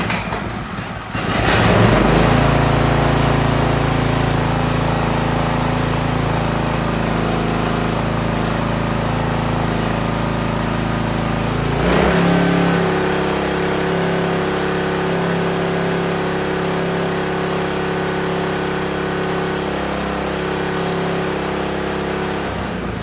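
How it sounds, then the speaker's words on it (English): A Predator 212 small engine, revived after sitting a couple of years with a freshly cleaned carburetor, fires up loud and close, then settles into a steady idle that drops slightly in pitch partway through. "Now, turn your choke on. We'll fire it up."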